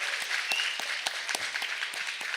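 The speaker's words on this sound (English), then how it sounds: "So let's cheer for Alex" A conference crowd at Hackaday Supercon claps and cheers for Alex, a dense patter of applause with scattered whoops, steady and moderately close throughout.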